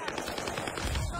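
Sniper rifle fire in a Fortnite-style battle royale game, a dense burst of sharp cracks and clatter packed into about a second, loud and close, with game noise layered underneath.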